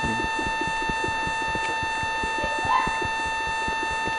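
Sharp electronic beeps repeat in a quick regular rhythm over a steady tonal hum, heard through headphones during a Minecraft session, fairly loud with no talking.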